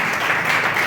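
Church congregation applauding together in worship, a dense steady wash of clapping that runs without a break through the whole short moment.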